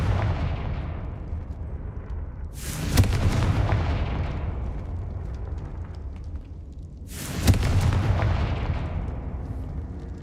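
Two loud spell blasts from the Confringo curse in a video game, each a sharp broadband burst decaying into a long rumbling tail, about four and a half seconds apart over a steady low ambient hum.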